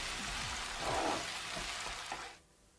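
Paneer masala gravy sizzling in a pan over a medium flame while being stirred and mixed, a dense steady frying hiss with soft scraping, which drops away abruptly near the end.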